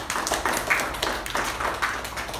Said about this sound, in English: let's give a nice round of applause for VPE's address.